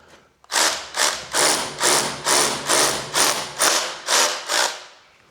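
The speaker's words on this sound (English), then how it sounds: "I'm drilling some giant holes." A power drill boring large holes for a new door in an old farmhouse makes about ten loud, evenly spaced grinding bursts roughly every half second, close and alone before trailing off.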